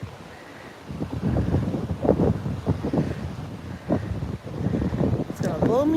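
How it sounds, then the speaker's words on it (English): Strong wind buffeting the microphone on a sailboat near Bergen, Norway, a loud rumbling roar with gusty swells that stays close and constant while a person speaks over it. "Ooh, that wind is hard."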